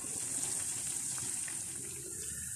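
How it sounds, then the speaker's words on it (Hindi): Bread slices fry in hot oil for a sweet bread dessert, giving a steady, soft hiss of bubbling oil that stays even and fairly quiet throughout, with no voices. "इस गर्म ऑयल के अंदर हम ये स्लाइस फ्राई कर लेंगे।"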